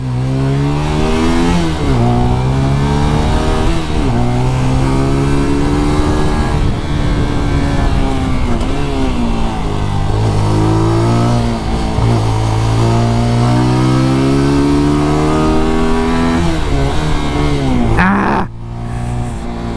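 A MITT GP 125 motorcycle engine revs loudly and close, climbing repeatedly through rising pitch sweeps as it accelerates through gears, dropping between shifts before cutting off near the end.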